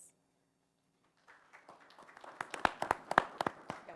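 Scattered claps at a county board meeting roll call, starting sparse and quiet then building into a near burst of sharp, irregular hand claps from a small group.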